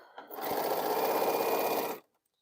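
A sewing machine runs steadily for about two seconds while stitching cut fabric pieces together for a quilt. The fast mechanical whir is close and continuous, then stops abruptly and leaves near silence.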